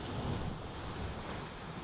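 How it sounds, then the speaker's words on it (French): Ocean waves surge steadily into volcanic rocks at a point on Gran Canaria, a dense, continuous wash of surf with wind noise that stays loud throughout. "Plusieurs entrées des vagues dans ces rochers volcaniques."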